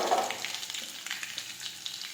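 Crushed garlic dropped into hot oil already holding mustard seeds and cumin sizzles steadily, a close, busy crackle with small pops and no voices.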